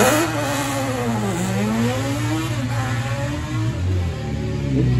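A race car engine revs and roars loudly at an auto racing event, pitch rising and falling through several sustained sweeps with a constant close mechanical drone underneath.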